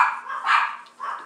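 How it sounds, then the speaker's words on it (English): Dogs bark at a distance indoors, sending out a few muffled, medium-loud barks over roughly a second with a short pause between them. "Dogs are horrible today."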